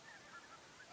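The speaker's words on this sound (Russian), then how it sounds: "Столько гуся слышно." Flock of geese honking faintly overhead while flying south in autumn, a few distant calls drifting over a steady outdoor hiss.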